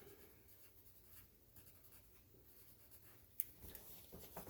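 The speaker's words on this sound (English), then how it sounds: "on my Post-it note, I will write 743" A pen writing the number 743 on a Post-it note: faint, soft scratchy strokes close by in a quiet room, ending with a small tap and a few rustles.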